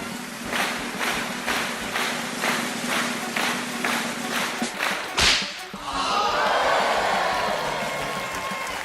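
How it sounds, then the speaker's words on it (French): A whip cracks repeatedly at a steady rhythm in an audio drama, each snap sharp and close, ending with one louder crack followed by a crowd-like wash of applause. "Au premier coup de fouet"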